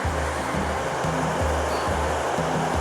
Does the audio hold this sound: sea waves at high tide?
yes